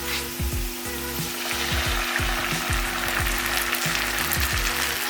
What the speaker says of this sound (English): we'll add in our crushed